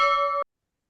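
Closing bell for the commodity markets: a single bright metallic bell strike with a sustained ringing tone that cuts off abruptly after about half a second, loud and alone.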